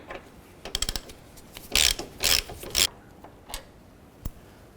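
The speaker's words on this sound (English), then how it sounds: "I want to go ahead and remove these 2 bolts." A hand ratchet fitted with a T40 Torx bit turns out Jeep Wrangler mirror bolts, giving several close, sharp bursts of rapid clicking with short gaps and a few isolated clicks.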